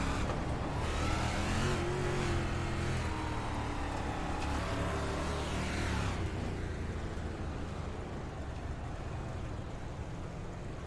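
Race cars circle Volusia Speedway under a caution flag, their engines droning and rising loudly in a continuous roar, then easing to a steadier, slightly thinner rumble as the field passes.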